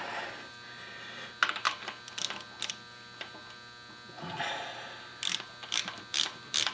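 A ratchet wrench backs a steel spark plug out of the aluminum cylinder head of a John Deere X738 lawn tractor, giving quiet bursts of sharp metallic clicks spaced irregularly over a low steady hum, with no talk.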